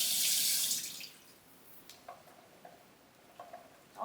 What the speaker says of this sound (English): just a little rinse. All the veggies get wet.